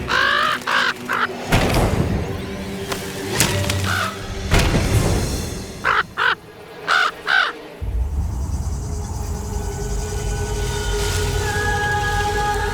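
A crow caws several times in a horror video game, harsh repeated calls standing out over a dark ambient game soundscape with other effects and background noise.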